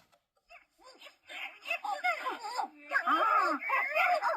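A HasLab Ghostbusters ghost trap toy plays a short, creepy terror dog growling and whimpering sound, rising in intensity and getting louder toward the end.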